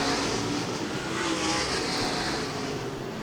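Dirt track race cars roaring through lap traffic at a Late Model and Sprint Car meet, a continuous loud engine drone with rising and falling revs, no talking.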